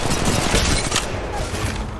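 Rapid bursts of gunfire ring out in the mobile battle-royale game Apex Legends Mobile, loud and dense from start to finish.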